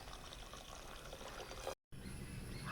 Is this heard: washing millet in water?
yes